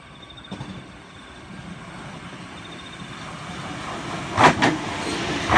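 A Sydney Waratah electric train approaches a station platform at night with a soft, steadily building rumble. A couple of brief louder swells come near the end, and no one speaks.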